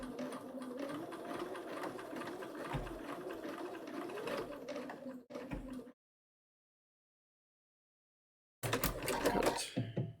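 A sewing machine runs steadily for about six seconds during a backstitch, stops into silence, then starts again with a short burst near the end.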